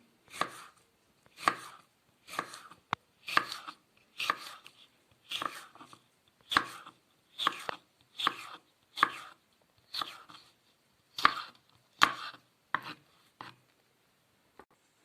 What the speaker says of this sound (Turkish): Domatesimin ardından aynı şekilde biberimi de doğrayacağım.